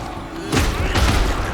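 Explosions from the boss Zote in the Hollow Knight video game: two heavy, booming blasts in quick succession, loud and close, with a rumbling tail after each.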